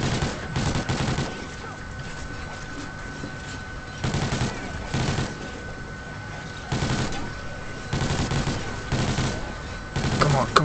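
Rifle fire in the Call of Duty Ghosts Extinction mode, with marksman and sniper rifles, comes in repeated loud bursts of rapid shots separated by short lulls, over steady game background noise.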